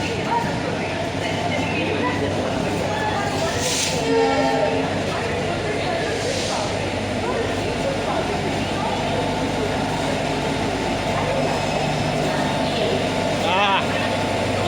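Ratnachal Superfast Express locomotive standing at a station platform while parcels are loaded, a steady loud rumbling drone with brief horn-like tones, under continuous nearby talk and station bustle.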